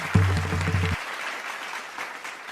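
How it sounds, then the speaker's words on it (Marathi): Loud, steady applause from an audience honouring teachers at a Warkari-tradition junior reality show, with a low musical drone in the first second before the clapping continues alone. "या सर्वांसाठी एकदा जोरदार टाळ्या लागल्या"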